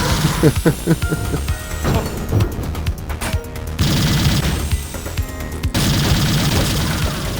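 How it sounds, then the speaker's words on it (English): Dense gunfire from the sci-fi shooter Mace Griffin: Bounty Hunter, with rapid bursts and clattering automatic fire during a hostage rescue, steady and loud, with occasional heavy impacts and brief pauses between volleys. "Just open fire, don't care."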